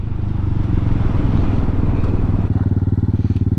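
A Hawk 250 Enduro motorcycle pulls hard through the gears, its loud, close engine drone holding steady with a rapid pulsing rhythm that sharpens toward the end.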